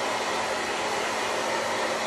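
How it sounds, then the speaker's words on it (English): A hair dryer blows to dry paint on a candlestick, a steady, even whooshing roar with a faint hum, continuous and unbroken with no talk. "I keep this hair dryer away from my hair because it likes to suck up the hair through the back of the hair dryer."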